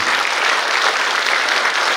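Steady applause from a crowd at a Korean Liberation Day ceremony, dense and continuous clapping throughout at a consistent loudness, with no talking over it.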